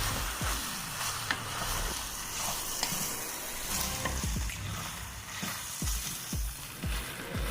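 Baked beans being stirred in a hot, sizzling pan, with a steady fry under repeated scraping strokes of a spoon against the pan, close and moderately loud, no talking.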